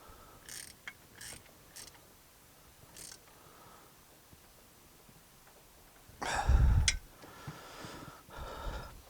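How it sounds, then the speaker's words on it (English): Ratchet tightening bolts on the hydraulic valve chest of a David Brown 990 tractor, a few faint scattered clicks and then one loud burst of ratcheting, followed by lighter mechanical clicks. "Now, we'll bolt through from the back into position."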